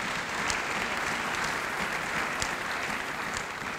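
A church congregation claps and acclaims the Lord, a steady, dense wash of applause that holds evenly throughout, slightly distant and reverberant, with occasional sharper claps standing out.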